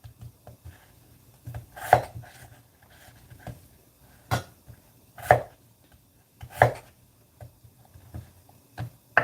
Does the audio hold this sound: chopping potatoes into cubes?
yes